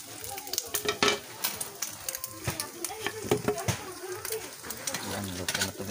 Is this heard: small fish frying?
yes